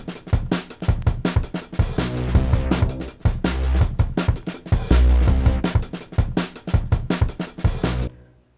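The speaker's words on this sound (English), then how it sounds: "here, I've doubled the speed of the Apple loop" Apple loop played at double speed, a dense, rapid barrage of percussive hits and layered tones, loud and continuous before cutting off at the end.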